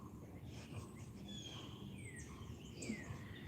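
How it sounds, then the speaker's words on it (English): A small bird chirps outdoors beside a porch on a quiet morning, several faint high chirps and short whistled calls scattered over soft background hum. "Do you hear this one chirping?"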